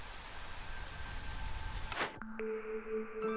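Rain falls in the Against the Storm video game as a dense, steady hiss of drops for about two seconds, then cuts off abruptly and gives way to quieter tonal game sounds.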